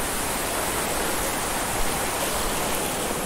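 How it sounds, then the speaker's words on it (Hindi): A forest waterfall roars as a steady, dense wash of rushing water, loud and close throughout, with no voices. "ये देखिए यहाँ झरना है"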